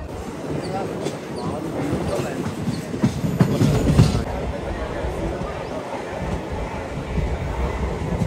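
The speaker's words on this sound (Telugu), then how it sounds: "మన ట్రైన్ అయితే సింగిల్ ట్రాక్ మీద వెళ్తుంది" A DEMU train running on a single track near Veldurthi station rumbles along steadily, wheels clattering on the rails with a louder surge partway through, heard from on board.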